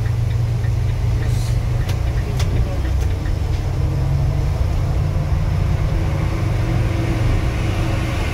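Inside an Epa Star double-decker bus on the move, the engine keeps up a steady low drone and hum with faint rattles throughout.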